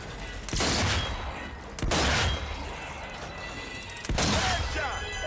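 Gunfire from a rifle in the Zombie Army 4: Dead War video game, three loud heavy blasts about 1.5 to 2 seconds apart, each trailing into a long rumbling decay, close and dominant.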